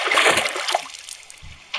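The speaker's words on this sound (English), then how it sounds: "Sir, did you hear that splash?" Water splashes loudly beside a rowboat, a sharp burst that trails into softer lapping, followed by a second short splash near the end.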